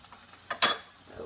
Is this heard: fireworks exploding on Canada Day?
no